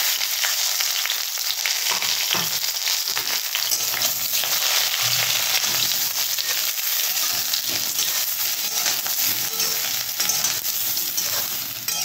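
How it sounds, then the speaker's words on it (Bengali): Eggplant slices frying in a little hot oil, a steady, close sizzle with crackling spits and faint stirring that runs unbroken throughout. "তেলটা গরম হয়ে গেছে বন্ধুরা, কেটে রাখা বেগুনগুলো আমি এখন দিয়ে ভেজে নেব।"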